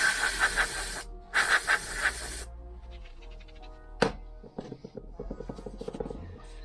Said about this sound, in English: a brake cleaner.